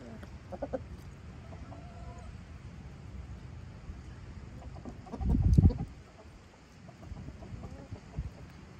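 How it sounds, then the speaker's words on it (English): Roosters cluck intermittently at a distance amid outdoor background noise, with a louder rumbling burst midway. "See those roosters?"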